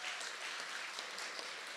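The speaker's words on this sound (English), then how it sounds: "he deserves a round of applause" Applause for the mayor of Sacramento at a College Corps launch and swearing-in celebration, a steady wash of clapping held at a quiet level from start to finish.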